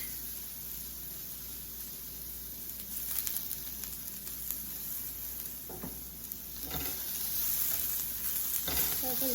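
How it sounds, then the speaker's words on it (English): Thinly sliced red onion sautés with a little salt in a pan, a soft continuous sizzle with occasional stirring scrapes, fairly quiet and steady throughout. "We're just going to make it golden brown, saute it a little in the pan with a little bit of salt"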